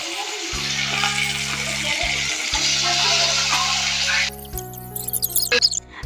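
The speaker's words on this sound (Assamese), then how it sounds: "এতিয়া মই পনীৰখিনি আস্তে দি ল'ম আৰু জুইটো একেলগে কমাই দিলোঁ" Paneer pieces fry in hot refined oil in a kadai, giving a loud, steady sizzle over a low stove hum that thins into scattered spitting crackles near the end.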